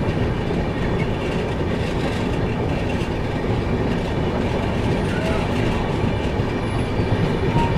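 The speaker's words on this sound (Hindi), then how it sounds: "अपनी ट्रेन अब आगे निकल रही है" Passenger train on the Coimbatore to Mumbai route rolling past a halted train at night, a continuous loud rumble of wheels and carriages with faint rail clatter, heard from on board.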